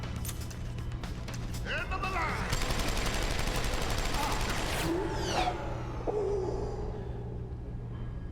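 Machine pistol fire in the PC game Deus Ex: Human Revolution, heard as dense bursts of rapid shots with mechanical clatter over a steady game backdrop.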